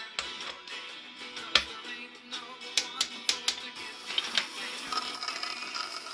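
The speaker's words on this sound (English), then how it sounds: "Torquing the main caps." A torque wrench clicks repeatedly while engine main bearing caps are torqued, giving a series of sharp metallic clicks spaced a second or so apart over a steady workshop background.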